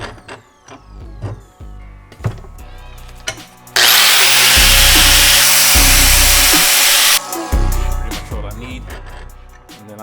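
A power tool grinds down the rough edges of a Harley-Davidson clutch part, a loud, steady whine lasting several seconds, framed by scattered metallic clanks and handling knocks before and after.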